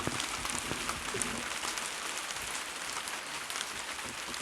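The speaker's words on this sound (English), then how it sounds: "today we're getting some hailstone and some rain" Rain mixed with hail falls outdoors in Luton, UK, a dense, even hiss of drops striking surfaces with fine ticking impacts, steady and fairly close, with no voices.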